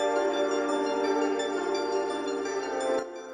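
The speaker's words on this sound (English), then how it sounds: "And then I got this nice high pluck going as an arpeggiator." A Vital synth preset layers warm sustained pads with a high plucked arpeggiator line, the notes cycling in a steady pattern before the sound cuts off near the end, alone with no talk.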